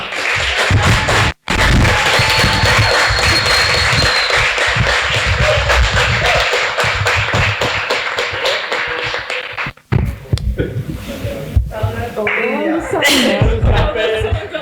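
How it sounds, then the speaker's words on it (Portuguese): An audience applauding the author at a book anniversary event for Veludo Negro, dense clapping filling most of the stretch before dropping off, with a voice then speaking over scattered taps. "Uma salva de palmas para ela."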